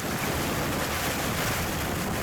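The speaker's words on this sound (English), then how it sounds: "Just enjoyed the sound of the water and the waves." Water rushes and waves wash around a sailboat under way at speed with a new genoa up, a broad steady hiss mixed with wind buffeting the microphone, with no pauses throughout.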